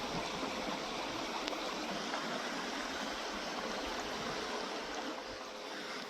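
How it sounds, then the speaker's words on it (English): Steady rush of water flowing across railroad tracks, a continuous broadband hiss like a small rapid, moderately distant and unbroken, with no talking. "There's water going across the tracks."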